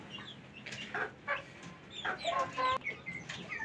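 Hens in a farmyard cluck in short uneven bursts, several birds calling close by with brief pauses between phrases, no talk.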